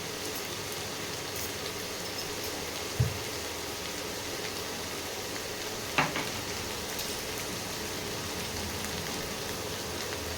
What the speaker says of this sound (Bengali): এটা একটু কাঁচা গন্ধটা অবধি ভাজতে হবে।